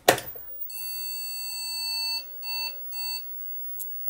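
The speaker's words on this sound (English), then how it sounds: "And we've got beeps, very loud beeps." An IBM 5155 portable computer fitted with an original IBM CGA card beeps loudly at power-on: one long sustained electronic tone followed by two shorter beeps, clear and close, with no voices.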